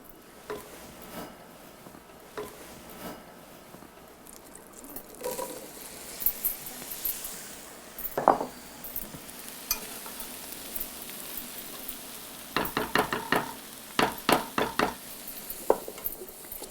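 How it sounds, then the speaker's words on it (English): Mushrooms frying in butter and olive oil over medium-high heat in an Emile Henry risotto pot, a soft sizzle with occasional spoon clinks and scraping stirs, growing busier toward the end. "we're going to cook the mushrooms at medium-high heat"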